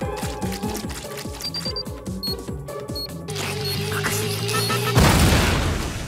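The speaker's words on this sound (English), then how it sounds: "Oh, why the explosion?" Rapid clicks and snaps in an uneven rhythm build into a loud, blaring burst that ends in a booming crash, a cartoon explosion from Teen Titans Go!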